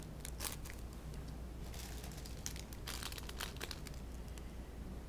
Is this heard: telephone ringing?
no